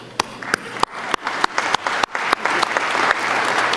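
An audience at a University of Manitoba convocation claps together, starting with scattered sharp claps that quickly build into steady, dense applause filling the room.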